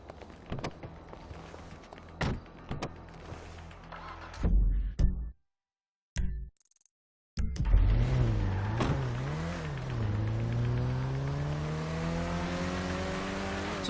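A car driven in GTA 5, with a few knocks and thumps before the engine rises into a revving, accelerating drone that shifts pitch as it speeds away, close and fairly loud, with brief silent gaps.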